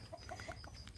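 Chickens give a few short, soft clucks close by on rural land on a morning walk, faint against a quiet outdoor background.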